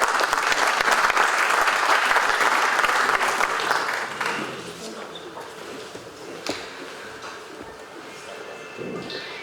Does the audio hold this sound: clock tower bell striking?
no